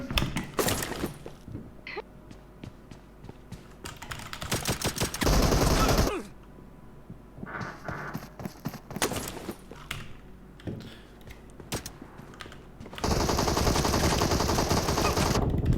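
Rapid automatic gunfire in a shooting game, coming in dense bursts and sustained volleys with gaps between them, loud throughout.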